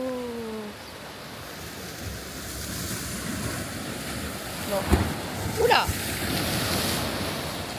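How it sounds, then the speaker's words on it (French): Ocean waves wash onto a beach in a continuous, moderately loud surf roar with gusts of wind buffeting the microphone; a voice briefly exclaims over it. "il y a quand même des vagues, hein."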